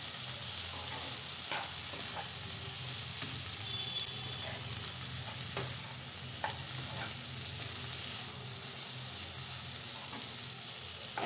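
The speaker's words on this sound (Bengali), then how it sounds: "এই আলুটা, বিটরুটটা আর হচ্ছে টমেটোগুলো খুব সুন্দর করে একটু রান্না করে নিচ্ছি।" Potato, beetroot and tomato fry in a pan while being stirred for a Bengali cabbage dish, a steady close sizzle running throughout with scattered scraping knocks from the spoon and no talking.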